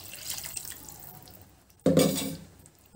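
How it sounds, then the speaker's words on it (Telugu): Water splashes into a pan of matar paneer curry with fresh peas, a short sudden pour partway through after quiet kitchen clinks. "ఇందులో కొద్దిగా వాటర్ కూడా యాడ్ చేసుకొని"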